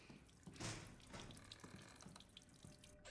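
Tap water runs steadily in Resident Evil Village, a continuous splashing hiss into a sink with a brief louder gush near the start, heard alone without voices.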